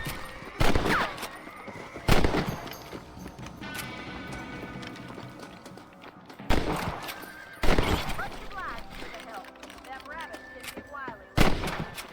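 Sharp, loud rifle shots ring out in Red Dead Redemption, about six spaced shots over a quiet outdoor background with horse hooves and game sounds, and voices talking between shots.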